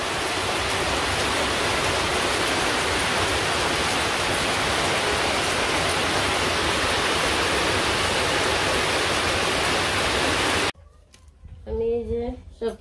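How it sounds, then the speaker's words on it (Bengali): Heavy rain pours in a village, a loud dense hiss for about ten seconds that cuts off abruptly, followed by a person speaking. "অনেক দূরে নামছে বৃষ্টি।"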